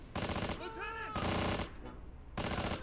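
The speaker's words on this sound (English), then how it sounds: "This machine gunner is a legend." Bursts of machine gun fire from a machine gunner in the World War II tactics game Close Combat Panthers in the Fog, three loud sustained volleys with short gaps and faint tonal game sounds in between.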